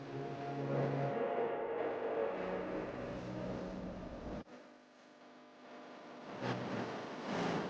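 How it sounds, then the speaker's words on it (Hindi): A tractor engine runs close by with a steady droning rumble that holds for several seconds, drops briefly in level midway, then swells again toward the end; no speech is heard. "मैं आपको आपके घर तक ना अपने इस ट्रैक्टर से छोड़ सकता हूँ"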